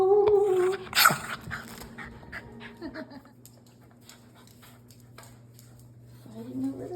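Shelter dogs whimpering and scuffling over a toy, with a sharp yelp or bark burst near the start, soft whines and panting through the middle, and a final whine; a voice can be heard speaking between the sounds.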